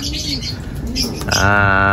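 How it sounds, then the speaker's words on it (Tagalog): Pigeons coo and chirp close by, their calls mixed with a person talking and a steady harmonic drone at the end. "nandito na yung mga kalapati natin, bumaba na."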